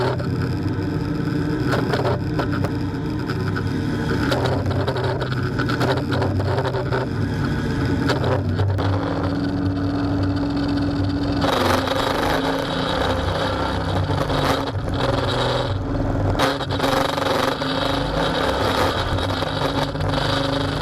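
A 1970 Dodge Challenger fitted with CalTracs traction bars accelerates on a drive around the block, its engine a steady, loud rumble that builds and surges as throttle is applied, with no talking over it.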